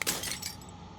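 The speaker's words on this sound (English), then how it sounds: "As the final fragment of the glass shatters, you see yourself with newfound clarity." Glass shatters in the video game Slay the Princess, a sharp bright crash followed by tinkling fragments that quickly fade.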